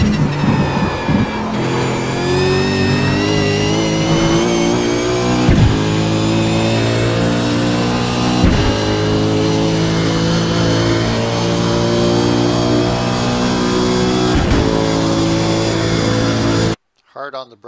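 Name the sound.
race car engine braking and downshifting at Monza, racing game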